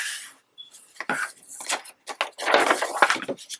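Scissors cut a small V into a paper envelope flap, giving a few quiet, close, crisp snips and rustles between short pauses.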